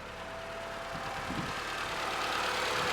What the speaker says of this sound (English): go on and try to crank it up